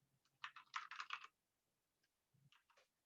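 A computer keyboard is typed on in a quick burst of rapid clicks, then a pause and a few more scattered keystrokes, close and fairly quiet with no talking.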